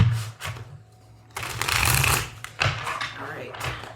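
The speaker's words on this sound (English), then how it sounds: "we're going to need to shuffle these really well" A deck of tarot cards is shuffled repeatedly in bursts of riffling and rustling, close and loud, with pauses between rounds and voices talking alongside.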